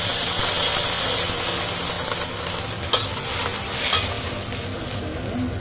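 Garlic frying in oil with chicken broth in a pan for a Hong Kong-style home dish gives a steady sizzle. A utensil scrapes and stirs through it, making a few sharp clacks, close and continuous.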